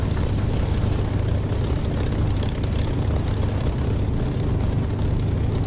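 Spitfire aircraft engine in the DCS flight simulator, a steady loud low drone with a constant propeller hum that holds unbroken from start to finish, with no talk over it.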